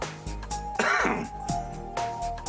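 A short throat-clearing cough from a character in the video game Persona 4 Golden, rough and close, followed by a few lighter clipped sounds over a low background tone.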